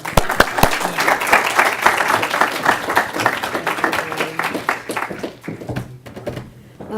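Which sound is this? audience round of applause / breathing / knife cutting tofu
audience round of applause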